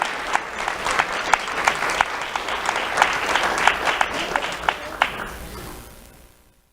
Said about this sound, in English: Let's have a round of applause for Carlton Campbell.